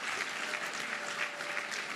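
Audience applause at a senior officials' performance contracts signing ceremony, a steady, dense wash of clapping from a seated crowd filling the whole moment without a voice over it.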